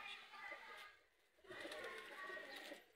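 Soft, low pigeon cooing comes in two phrases, faint and close, with a gap between them.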